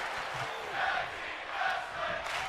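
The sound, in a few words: wrestling crowd chanting for tag team wrestling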